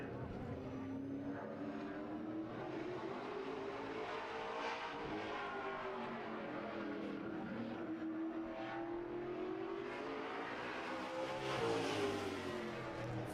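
A late model race car on a qualifying lap at a season opener roars past at middle distance. Its engine pitch climbs and falls through the run, with faint background voices.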